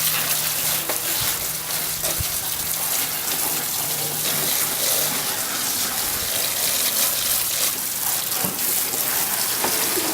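Steady, loud rush of water from a hose rinsing degreaser off a car engine during detailing, continuous spray with no pauses and no talking.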